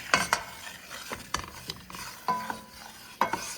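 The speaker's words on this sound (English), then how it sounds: "Keep stirring it. Keep stirring." A browning roux is stirred in a pan: close, repeated scraping strokes over a soft sizzle, with irregular spaced scrapes and no talk.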